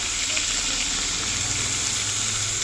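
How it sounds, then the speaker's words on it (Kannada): Mutton with masala, cinnamon and cloves fries inside a pressure cooker, a loud, close, continuous sizzle with a faint stirring rhythm underneath. "ಸ್ವಲ್ಪ ಫ್ರೈ ಮಾಡ್ಕೊಬೇಕು, ಒಂದು 5 ಮಿನಿಟ್ಸು. ನೋಡ್ಬೋದು ಮಟನ್ನು ಯಾವ ಥರ ಫ್ರೈ ಆಗ್ತದೆ"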